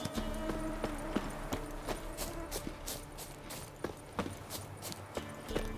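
Roach, a horse in The Witcher 3, gallops with a steady rhythmic clip-clop of hooves that stays close and loud the whole time, over a dense bed of game ambience.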